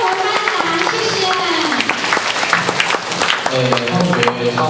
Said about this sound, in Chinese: 来热烈掌声，谢谢我们付前人为我们颁奖